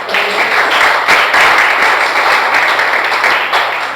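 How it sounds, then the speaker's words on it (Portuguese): A church congregation applauds during a Portuguese-language sermon, a dense, loud, continuous wash of many hands clapping close by that tapers slightly at the end. "Pode dar uma aplauso ao Senhor Jesus?"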